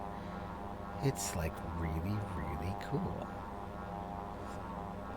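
A Sea Ray experimental propeller aircraft's engine in a flight video game gives a faint, steady droning hum that sits beneath continuous talking for the whole stretch.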